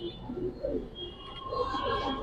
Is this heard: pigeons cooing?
yes